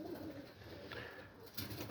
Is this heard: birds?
yes